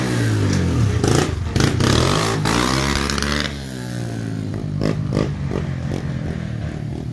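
Yamaha TTR 110 dirt bike fitted with a Pro Circuit pipe revs hard nearby, engine pitch climbing and falling through several throttle blips before settling into a rough, clattering idle.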